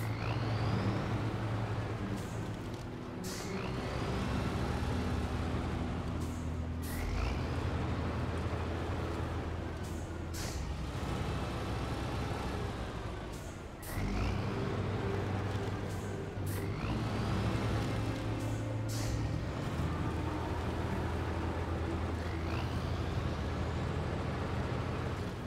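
Tatra truck in the video game SnowRunner grinding along steadily with a loud, continuous low engine drone and hiss, with brief dips and clanks.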